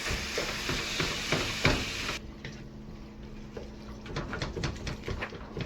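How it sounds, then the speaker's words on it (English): Ground meat sizzles and fries in a pan for a keto meat pie while a wooden spatula scrapes and breaks it apart, giving steady crackling with irregular scraping knocks, close and moderately loud, with no talking. "So I break it down, and I'm going to cook this for 12 to 15 minutes."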